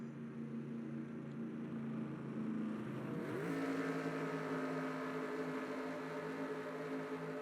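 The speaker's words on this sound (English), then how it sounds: "Everybody revving up their engines" Race car engines in a racing game revving ahead of a restart, a steady droning hum that rises sharply in pitch partway through and then holds at a higher, louder level.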